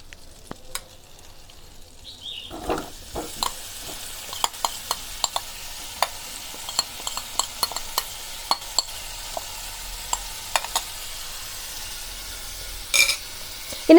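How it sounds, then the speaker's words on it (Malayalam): Masala-coated paneer sizzles steadily in a pan over medium flame, with a soft continuous fry and scattered sharp clinks and scrapes from stirring, close and with no talking. "ഇനി നമുക്ക് മീഡിയം ഫ്ലെയിമിൽ വെച്ചിട്ട് ഇതൊന്ന് ഇളക്കി കൊടുക്കാം."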